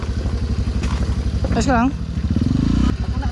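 An enduro motorcycle engine idles and putters rhythmically up close in neutral, with a brief rev near the end, while a voice speaks over it.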